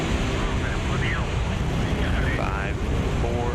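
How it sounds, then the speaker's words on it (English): Soyuz rocket engines firing during liftoff toward the International Space Station, a loud, continuous broadband roar with rumbling low end that stays steady throughout, with faint voice traces mixed in. "engines firing."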